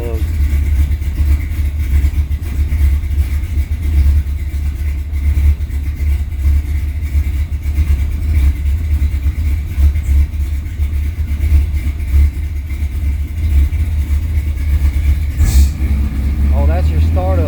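Supercharged Jeep XJ engine running on E85 fuel, a steady low rumble under the hood that holds close and loud throughout, with a brief higher whine near the end.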